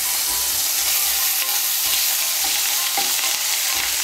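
Two small spoons of ginger paste fry in a pan for a Bengali vegetarian soybean curry, a steady bright sizzle with repeated scraping strokes of the stirring spoon, close and continuous.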